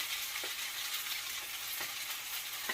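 Beef lo mein fries in an overfull wok, giving a steady, close hiss and sizzle with a few soft scraping stirs and no one talking.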